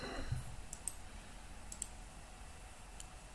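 A computer mouse gives a few sharp, faint clicks in quick pairs and then a single click against a quiet background.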